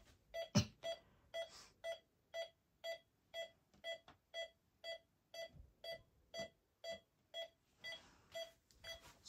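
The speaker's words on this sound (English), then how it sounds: "let's let it go into alarm now" An Optima intruder alarm system going into alarm, sounding a steady series of about sixteen evenly spaced electronic beeps, close and clear, after a brief click at the start, with no talking.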